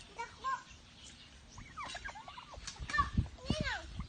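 Turkeys on a farm give repeated warbling gobbles and calls, moderately close but fairly quiet, with soft background noise.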